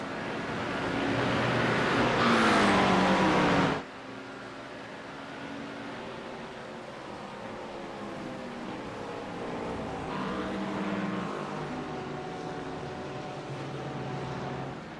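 GT3 race cars at the Red Bull Ring in a racing video game, engines droning loudly with a rising whine in the first seconds, then a steadier, quieter roar of several cars running on.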